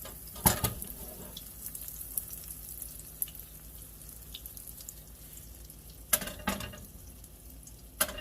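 Appalachian fry bread fries gently in a pan with a steady low sizzle, broken by a few louder crackles and clatters, heard up close with no talk.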